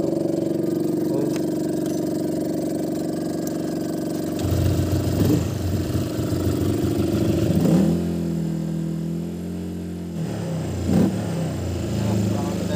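A car engine being throttled during a fuel performance test, its steady idle giving way to revving surges that rise and fall over several seconds, loud and close, with voices talking over it.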